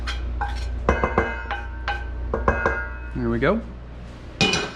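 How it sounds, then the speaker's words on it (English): A metal pan of cauliflower being tossed in syrup, giving scattered clinks and knocks of pan and utensil in an irregular rhythm, with a short spoken remark near the end. "we're just gonna go straight over top of the cauliflower, and we'll give this a nice toss"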